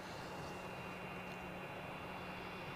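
A Lufthansa airliner departing from Edinburgh Airport produces a steady, broad jet-engine roar with a faint whine on top, distant and low in level, continuous throughout without any talk.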